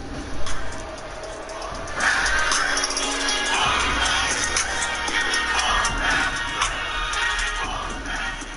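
A wrestling show crowd reacts to a wrestler's entrance with steady, moderately loud cheering and shouting, a continuous roar of many voices at some distance.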